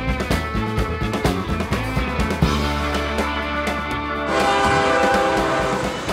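A train rumbles past up close, steady and loud, with rhythmic clacking of wheels over rail joints and a sustained horn-like tone.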